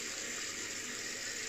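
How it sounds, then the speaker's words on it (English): Tap water runs steadily as a shaving soap tub is rinsed under a faucet, a brief, faint, even splashing hiss with nothing else heard. "Just gonna rinse out the tub"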